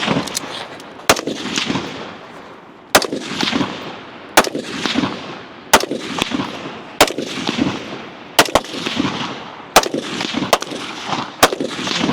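A rapid string of loud pistol shots at a competitive shooting stage, roughly ten sharp cracks at fairly regular intervals of about a second, each ringing out with reverberant tails and light background noise between.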